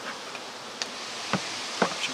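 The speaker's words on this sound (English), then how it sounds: "Let's get these bees' heads down" A low, continuous buzz of many honey bees humming together nearby during a hive inspection, with a few soft taps and rustles over it.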